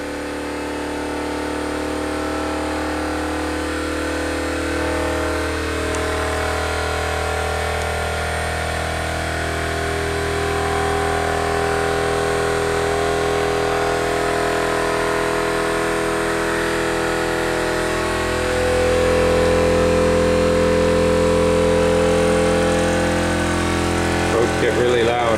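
The engine of a Ford Model A runs steadily for a long stretch, a droning mid-pitched hum that slowly climbs and swells louder toward the end.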